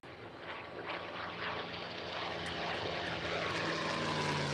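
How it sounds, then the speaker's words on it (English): North American P-51 Mustang propeller fighter flying at an airshow at McMinnville Airport, a broad droning engine roar swelling steadily louder as it approaches, continuous and fairly distant. "here's the mighty Mustang."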